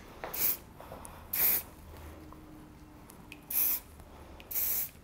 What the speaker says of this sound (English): I'm gonna spray this down with a little Forceful 12.